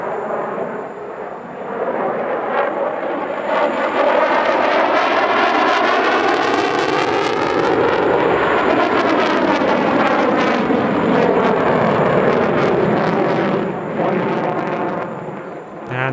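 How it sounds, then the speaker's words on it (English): A powerful fighter jet performing a high-alpha thrust-vectoring display at an airshow in Dubai, its loud continuous engine roar swelling and sweeping in pitch as it passes close overhead, filling the whole stretch. "It's the most powerful fighter that we'll see today."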